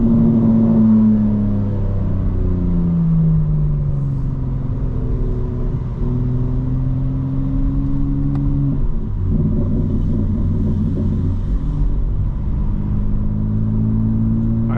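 A fully modified 2025 BMW M4 Competition xDrive on a night drive, its engine note a deep, steady rumble with rising and falling revs throughout, loud and continuous from the cabin, with no talking.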